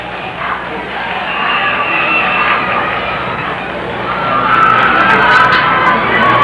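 Roaring crowd at a 1984 Whitewater Whippets high school football game against the Elks, a steady wash of cheering and yelling that swells louder toward the end, heard from within the stands.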